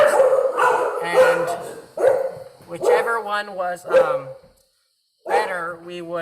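A dog barks a few times in the background while a person keeps talking over it.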